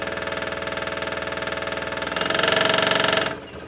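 A scroll saw runs fast, its arm slapping the bottom in a steady, rapid mechanical chatter that grows louder and harsher as the speed rises, then drops back near the end, with no talking.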